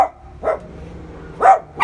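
Dog barking close by, three short sharp barks with pauses between them, loud and clear in a quiet room.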